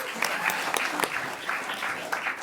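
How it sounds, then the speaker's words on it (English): Audience applause at a student election question-time event, steady dense clapping filling the room throughout, with a few sharper claps standing out near the front. "Round of applause for Natalie"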